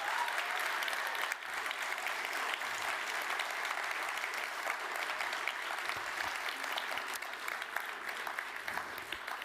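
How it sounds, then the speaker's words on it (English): A large audience at a summit event in Brussels claps for dance performers, a sustained, even wash of applause from a big crowd lasting throughout, fairly distant and uniform. "Another big round of applause,"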